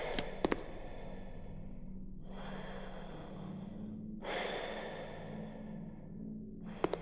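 Heavy breathing from a character in a video game: slow, loud breaths in and out, each long inhale and exhale rising and falling in turn, with a couple of sharp clicks.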